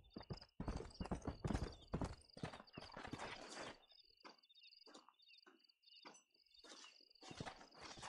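Hooves clip-clopping in Red Dead Redemption 2, bursts of rapid steps, a horse moving at a trot and then slowing, with a steady high insect-like chirp sounding throughout.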